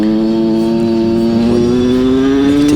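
A small motorcycle fitted with a VOCA Rookie 50/70 exhaust runs flat out at top speed, its high, buzzing engine note droning loud and steady with a slow, slight rise in pitch, close up.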